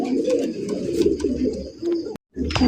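Big crested red Indian Bombay pigeons coo in low, rolling, overlapping throaty calls, close and fairly loud, with faint flutters and a brief cut to silence near the end.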